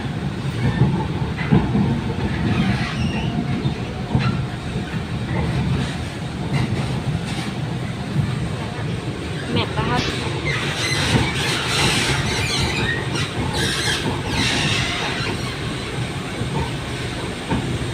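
Yellow Line MRT train running between stations, with a steady loud rumble of wheels and carriage noise, occasional squeals and clicks, and faint voices over the ride.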